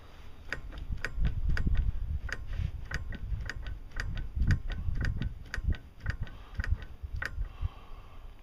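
Loose suspension part on a Peterbilt truck clicking repeatedly as it is pushed during a DOT inspection, a steady series of sharp ticks close by over low rumbling background noise.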